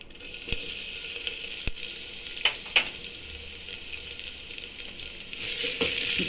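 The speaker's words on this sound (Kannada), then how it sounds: "ಫ್ರೈ ಮಾಡ್ಕೊಬೇಕು ಈರುಳ್ಳಿ ಹಚ್ಚಿರೋದು ಹಾಕ್ತಾ" Chopped onions fry in a pan for a ridge gourd sambar, a steady, close sizzle with soft stirring scrapes and a few sharp clinks, no voices.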